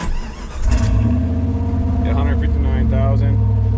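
A 1996 Jeep Grand Cherokee engine cranks and catches, then settles into a loud, rumbling idle with a slight rev, close by, through an aftermarket exhaust.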